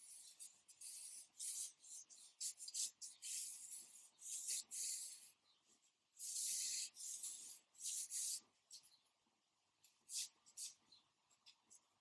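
A pencil sketches a bird on paper in short, quick scratchy strokes, a soft close rasping that comes in repeated bursts with brief pauses between them.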